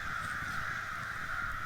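A large flock of crows caws from trees at a campsite, a dense, continuous wall of overlapping harsh calls that sounds loud and steady, with no gaps.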